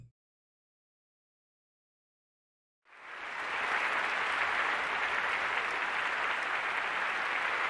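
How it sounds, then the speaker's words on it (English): Raucous theatre applause on an opening night, rising out of silence after about three seconds into a loud, dense, sustained wash of clapping from a large crowd that carries on to the end. "Miyuki kisses her lover to raucous applause"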